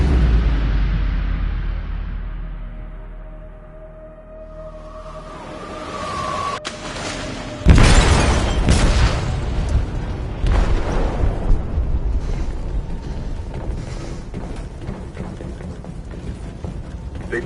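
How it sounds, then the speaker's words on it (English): An explosive detonates in a ship's hold in Detroit: Become Human, a sudden massive boom that gives way to a long rumbling, crackling wash of debris and roaring noise lasting many seconds. "They detonated an explosive in the hold. The ship is sinking, sir."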